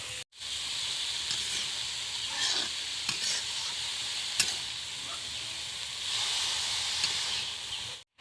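Mustard greens tossed into oil with fried crushed garlic and green chili, giving a steady loud sizzle with scraping stir strokes throughout, alone with no talk.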